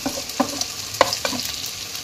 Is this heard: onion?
yes